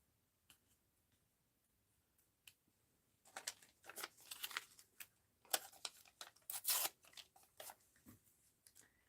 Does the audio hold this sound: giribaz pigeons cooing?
no